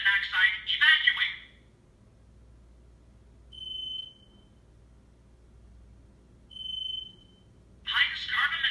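A residential smoke and carbon monoxide detector under test gives loud spoken-style alarm bursts at the start and end, with two short faint beeps between them and quiet in the gaps.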